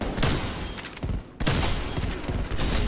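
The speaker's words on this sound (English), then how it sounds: "I could actually like kill people with this gun." Gunfire from a gun in Call of Duty: Cold War, a quick burst of loud, close shots with sharp cracks, a brief pause, then more rapid firing across a few seconds.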